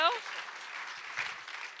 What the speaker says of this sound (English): Can we get a round of applause for the panelists?